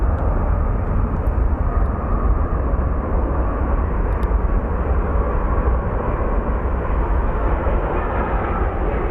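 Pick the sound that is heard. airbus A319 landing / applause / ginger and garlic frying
airbus A319 landing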